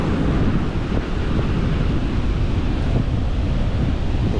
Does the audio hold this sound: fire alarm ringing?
no